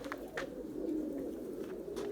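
A domestic pigeon cooing softly in a low, throaty murmur, close by and continuous for two seconds, with a few faint sharper sounds around it.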